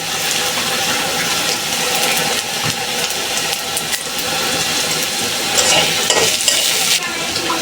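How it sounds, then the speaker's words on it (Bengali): Crushed ginger and garlic frying in a pan, a steady loud sizzle with stirring scrapes running throughout, close and continuous. "এখন আদা ছেঁচা দিয়ে দিলাম লাল করে ভাজবাম"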